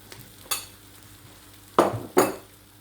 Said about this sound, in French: Là, je fais griller un peu la farine